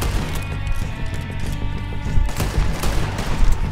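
Pistol gunshots ring out in the Red Dead Redemption video game during a fight with the O'Driscoll gang, a dense run of sharp cracks over a loud, busy backdrop of game sound.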